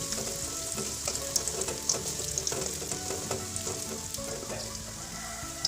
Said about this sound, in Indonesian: Kemudian akan saya masukkan bawang putih. Akan saya tumis sampai layu.